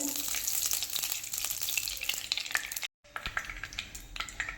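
Ghee melts and sizzles in a hot kadai for Marathi coconut rice, a loud, steady close-up frying hiss with faint stirring scrapes. The sizzle cuts out briefly near the end, then resumes. No one speaks.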